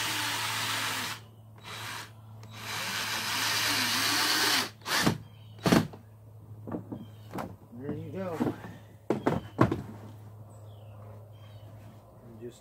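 Power drill driving screws into a plastic barrel canoe, several short bursts of whirring with pauses between, near and fairly quiet, with someone talking in between.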